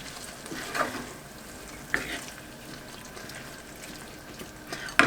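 Halved precooked baby potatoes stirred through a one-pot chicken and potato dish, a soft, steady sizzle under a few scraping spoon strokes, with brief louder clinks near the start, middle and end.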